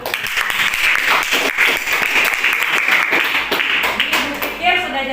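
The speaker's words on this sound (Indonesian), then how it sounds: "Oke, beri dulu tepuk tangan untuk." Classroom audience applauding at the end of a school physics lesson on sound waves, loud dense clapping sustained throughout, with a voice speaking over it near the end.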